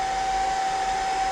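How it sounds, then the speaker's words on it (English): A hair dryer runs steadily, drying freshly applied paint on a crankbait fishing lure: a constant close whooshing blow with a fixed motor whine, unbroken and alone throughout. "hair dryer,"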